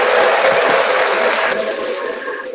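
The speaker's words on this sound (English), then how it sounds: "Give her a round of applause." An audience applauds loudly for a woman at an evening reading event, steady dense clapping that fades slightly toward the end.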